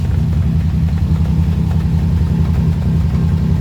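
A 1938 SS Jaguar Drophead 3½ litre car engine running in second gear, a loud, close, steady low rumble with a rhythmic throb and no voices.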